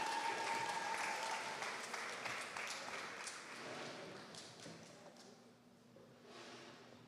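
Audience applause at a primary school graduation ceremony, a fairly distant, steady wash of many hands clapping that gradually thins and softens, with faint voices beneath.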